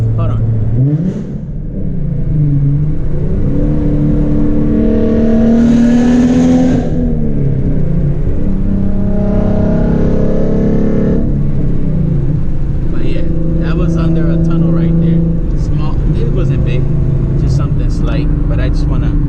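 A modified, bolt-on tuned Nissan 370Z running on E85, heard from the cabin: the engine revs and rumbles loudly as it accelerates through the gears, with rising and falling pitch, and someone talks over it at times.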